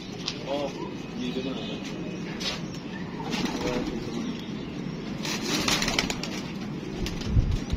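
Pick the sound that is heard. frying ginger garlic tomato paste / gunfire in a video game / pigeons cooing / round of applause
pigeons cooing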